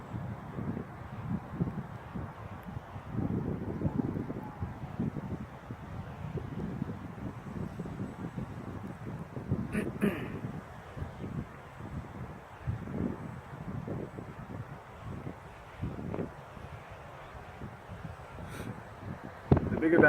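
Gusts of strong wind buffet a small drone flying outdoors, producing rough, fluctuating rumbling roar on the microphone, while several people talk over it at moderate volume.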